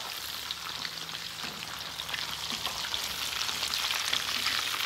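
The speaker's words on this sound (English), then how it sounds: "Look, I just fried these until they're golden brown." Breaded cheese sticks frying on a flat top griddle give off a steady, close hiss of crackling oil that holds for the whole stretch, with no talking.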